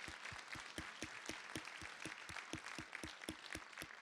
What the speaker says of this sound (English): How about a round of applause for Anil?